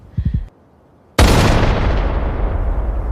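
A Barrett M82 rifle fires a single loud, close gunshot: a sharp, heavy crack after a brief quiet moment, followed by a long rumbling boom that slowly fades, with no talking.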